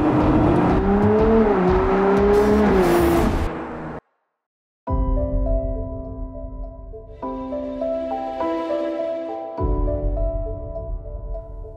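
Ferrari Daytona SP3 with V12 engine at Spa, heard first as a rising, wailing rev that cuts off abruptly, then after a brief silence as a steady, harmonically rich engine drone that climbs in steps.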